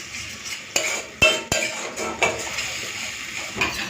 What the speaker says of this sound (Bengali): হালকা আঁচে একটুখানি নেড়ে চেড়ে ভালো করে কষিয়ে নেব।